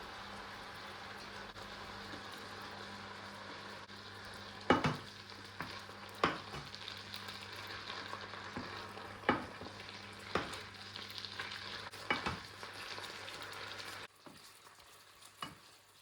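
Beef stew with sweet potatoes simmering in a pot, a steady low bubbling hiss with a faint background hum and periodic sharp clinks of stirring, fairly quiet, ending with a drop to quieter bubbling.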